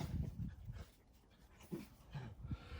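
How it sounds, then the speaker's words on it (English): Dogs pant and whimper faintly nearby in a quiet room during a Ram 6.7 oil change, soft intermittent sounds over a few seconds. "sorry about the dogs."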